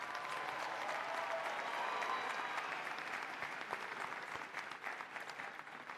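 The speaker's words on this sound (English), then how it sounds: "Let's give them a round of applause and a sign of respect." An indoor commencement audience applauds graduates' families, steady dense clapping from a large crowd that holds for several seconds and then thins slightly toward the end.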